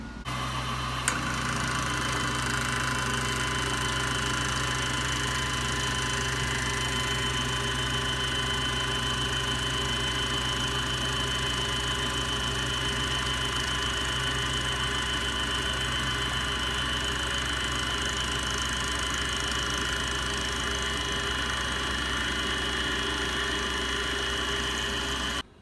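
A Superfly fly cutter takes a ten-thousandths skim across the surface of metal stock on a mill, giving a steady, even machining whine and motor hum with a faint high squeal that runs unbroken for the whole stretch.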